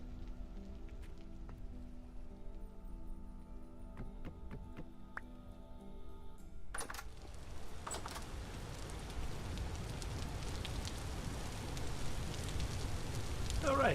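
Rain in the survival game Vintage Story comes in after a quiet musical stretch: a sudden crackle gives way to a dense, hissing downpour that grows steadily louder and fills the scene, with no talking.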